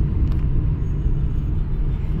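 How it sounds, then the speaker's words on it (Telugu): Street traffic in Kolkata, with yellow Ambassador taxis and crowds about: a continuous low engine rumble of passing vehicles, close and steady, with no voices. "ఇవి ట్రాఫిక్ ఇక్కడ"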